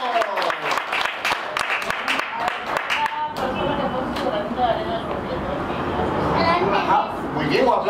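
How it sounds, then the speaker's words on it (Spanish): Applause and hand-clapping from a group of guests at a baby shower, starting in a burst of sharp claps and then blending into a dense, sustained crowd clap with voices mixed in. "un aplauso de fuerte las manos, otro aplauso"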